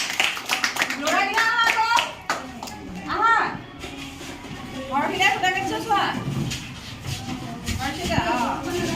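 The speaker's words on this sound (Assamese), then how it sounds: "হাত তালি" Hand clapping in praise of a child learning to spin thread, scattered claps mixed with a voice and adult talk, moderately loud and close throughout.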